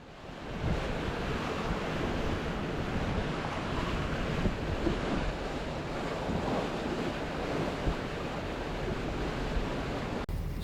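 Steady rush of waves and wind while sailing south toward Amsterdam, a dense, constant wash close to the microphone with gusty wind noise throughout and no talking.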